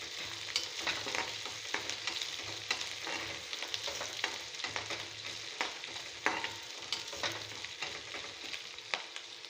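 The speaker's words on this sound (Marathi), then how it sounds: "कांदा अद्रक लसूण पेस्ट लाल तिखट हळद कोथिंबीर हे सगळं असं फ्राय करून घ्यायचं" Onion, ginger garlic paste, red chilli, turmeric and coriander frying in a pan for a wheat-flour kurdi dish, a steady close sizzle with frequent scraping stir strokes throughout.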